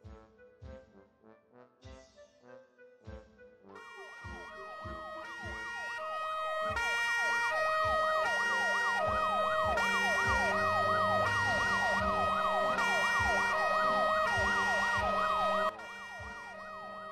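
Emergency sirens of police, fire and ambulance vehicles in a children's emergency scene, starting with rhythmic tones and knocks, then swelling into loud overlapping wailing and yelping sirens that hold steady to the end, no talking.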